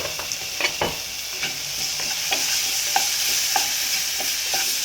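A spoon scrapes and stirs through salted potato masala for dosa in a pan, with soft irregular knocks over a faint steady sizzle and no talking.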